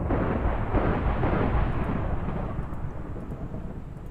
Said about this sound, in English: Yeah, lightning. That also can happen.